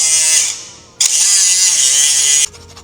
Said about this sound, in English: we're really quickly gonna cut about 2 or 3 threads off because it hits the Sheepy manifold